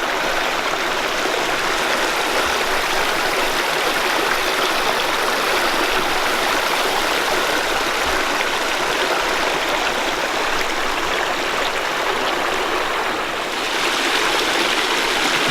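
Swift Camp Creek flows along a wooded trail in Red River Gorge, Kentucky, a loud, constant rushing and gurgling of water heard close up, unbroken and with no voices.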